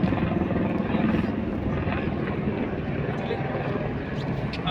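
A helicopter flies on the Kedarnath pilgrimage route in the Himalayas, its rotor a steady, rumbling drone that holds at an even, moderate level throughout without fading.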